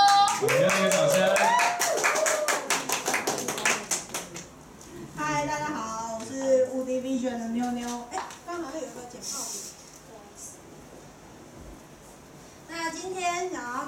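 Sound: audience applause welcoming a speaker

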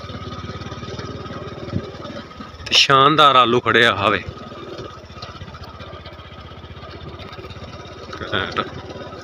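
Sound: tractor engine running

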